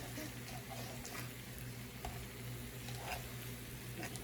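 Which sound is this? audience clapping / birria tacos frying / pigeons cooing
birria tacos frying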